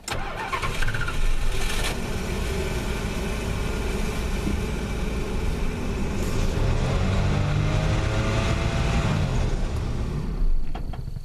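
A 1987 Plymouth Gran Fury engine runs steadily as the driver eases off the gas, with the car running out of fuel. It gives a continuous close mechanical drone that shifts slightly in pitch near the end.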